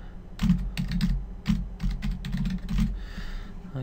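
A password typed on a computer keyboard during Bitcoin wallet encryption, quick close-up key clicks in short bursts with brief pauses, crisp and loud against a quiet room.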